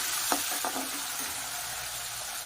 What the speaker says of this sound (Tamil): அடுத்தது வந்து திராட்சை போட்டுக்கலாம். இது வறுத்துக்கலாம்.